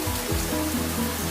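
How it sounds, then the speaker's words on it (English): Heavy rain pours down steadily during a thunderstorm, a dense continuous wash of close, loud hiss that fills the whole short stretch with no voices over it. "That is a lot of rain."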